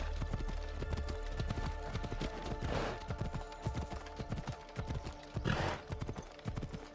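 Horse hooves gallop at a steady, rapid rhythm in the video game Assassin's Creed Odyssey, loud and continuous, with a couple of whooshing swells of wind or motion rising over the pounding beat.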